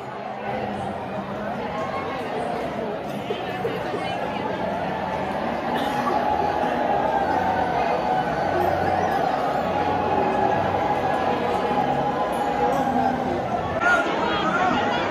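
Crowd of worshippers gathered at Prem Mandir temple, a steady murmur of many voices and chatter surrounding the listener throughout, a dense babble with no single voice standing out.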